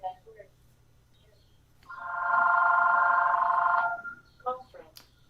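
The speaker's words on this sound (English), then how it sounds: "Was that a phone you need to deal with?" A telephone rings once in an office setting, a steady electronic tone held for about two seconds, preceded and followed by brief, quieter beeps.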